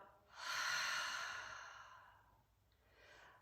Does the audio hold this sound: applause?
no